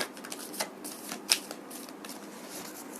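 Angel cards being shuffled, soft riffling and flicking of a deck with a couple of sharper snaps, quiet and close with no voices.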